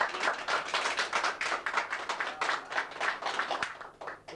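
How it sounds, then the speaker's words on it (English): Steady applause from a small crowd in a bar, rhythmic clapping heard at moderate distance, fading slightly toward the end. "Give them a nice round of applause."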